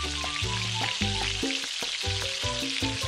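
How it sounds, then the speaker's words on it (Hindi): Spices and vegetables for masala pulao sizzling in oil over a medium flame, a continuous close frying hiss under repeated rhythmic scrapes and knocks of a spoon stirring, with no voices. "मसालों को अच्छे तरीके से मिक्स करेंगे और कुछ देर तक सब्जियों के साथ भून लेंगे।"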